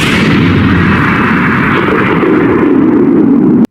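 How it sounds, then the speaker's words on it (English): A cannon blast from the One Piece anime, a loud sustained booming roar with heavy low rumble that fills the whole stretch and cuts off abruptly at the end. "The cannon's still loaded with a special Buggy ball"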